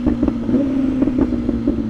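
A Brutale motorcycle fitted with a new titanium exhaust idles and blips its throttle, producing a steady low burble punctuated by several quick, loud revving pulses close to the microphone.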